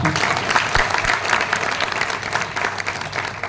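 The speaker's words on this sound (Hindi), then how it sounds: "तालियां बजा दो एक बार" Applause from a seminar audience in Ahmedabad, a dense steady clatter of many hands clapping together for the full stretch, fairly close and loud, with no talk over it.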